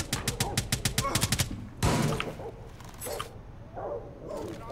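Rapid bursts of gunfire from Rainbow Six Siege, Club House map in team deathmatch: a fast string of close, loud shots for nearly two seconds, then a heavy blast and scattered softer shots with faint background game sounds.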